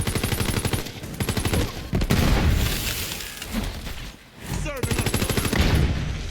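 Rapid automatic gunfire from Borderlands 3 gameplay, loud bursts of rattling shots interrupted by breaks with shattering and impact noises before the firing resumes.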